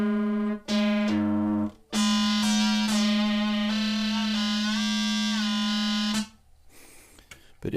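A Behringer D analog synthesizer plays steady, buzzy harmonic tones with oscillator 3 running free rather than modulating, holding one drone while pitches shift above it for about four seconds before stopping, loud and without speech.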